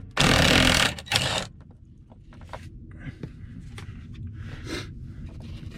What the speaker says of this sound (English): So we're just going to undo the bolt and take the seatbelt out.